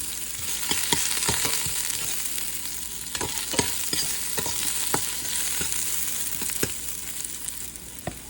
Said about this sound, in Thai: ใส่น้ำมันในหม้อเกี่ยมเคี่ยวขิงกระเทียมผักบัว